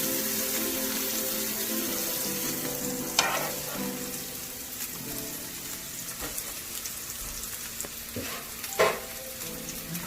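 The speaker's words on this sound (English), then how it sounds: "you can just sear it on the edges for a moment" Food sears in a hot pan, a constant soft crackling sizzle with occasional clinks and scrapes of a utensil, close but fairly quiet, with no talking.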